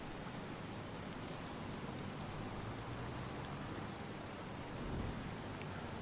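Steady rain falls in the video game Farming Simulator 25 with a constant hiss, a low rumble briefly swelling near the end.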